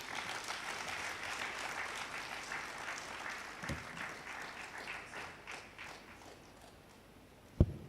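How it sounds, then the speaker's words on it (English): Sustained audience clapping at a bank's annual suppliers' conference, a dense patter that gradually thins toward the end and is punctuated by a sharp thump near the close. "Let's do that clapping again."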